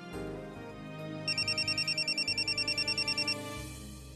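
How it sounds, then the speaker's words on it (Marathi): A mobile phone ringtone sounds in a repeated pulsing electronic pattern for about two seconds, heard over a soft music bed in a Marathi TV drama scene. "अगं उचल फोन आणि बोल बाबांशी."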